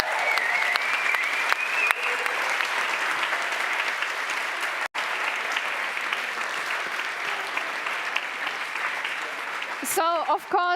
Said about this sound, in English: a big applause for the two of them again